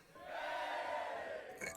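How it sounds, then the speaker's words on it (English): A tabletop game sound effect of an arena crowd going wild, a dense swelling roar of many cheering voices that rises, holds steady, and breaks off with a brief burst near the end. "And the crowd then goes wild"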